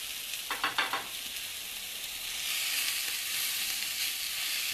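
Rapini greens, Italian parsley and other vegetables sizzle in a hot pan, a few soft stirring clatters at first, then a steady, close frying hiss that swells and holds to the end.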